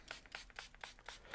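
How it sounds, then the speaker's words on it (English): Quick repeated sprays from a pump bottle misting an acrylic paint palette, about six short hissing bursts in a steady rhythm, close by and fairly quiet. "that's my cue to give my palette another spray"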